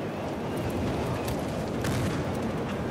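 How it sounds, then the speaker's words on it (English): A van blows up in the shooter game Battlefield Hardline, a dense rumbling blast that rolls on as a continuous loud roar for several seconds, with no talk. "Let me blow up this van"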